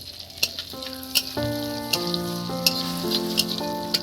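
Whole spices such as cardamom and cloves sizzle and crackle in a pan for basanti pulao, with a steady close frying hiss and light scraping from stirring, and no talking.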